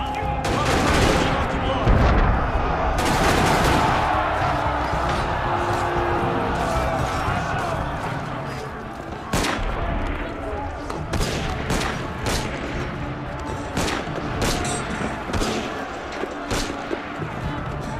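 Soldiers' musket and gunfire in Assassin's Creed Unity cracks repeatedly through a loud, busy battle din, with scattered sharp shots standing out later and shouting voices mixed in.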